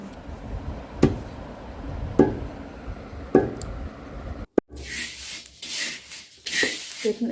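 Homemade roasted spices ground by hand, giving three sharp rubbing strikes spaced about a second apart, then a burst of louder, rougher scraping and grinding close by, with no voices.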